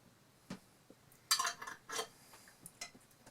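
Claussen and Vlasic pickles are set onto a plate, giving a few quiet, separate clinks and a short cluster of clattering taps in an otherwise hushed room.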